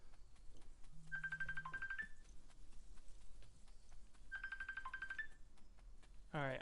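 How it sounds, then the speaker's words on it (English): A trilling electronic phone ringtone from the video game Boundless sounds in two bursts, each about a second long and a few seconds apart, over quiet game ambience. "I'm receiving a phone call"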